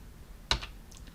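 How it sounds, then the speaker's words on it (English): A single sharp keystroke on a computer keyboard while entering a spreadsheet formula, one close click against a quiet background. "I'm going to start typing VAT"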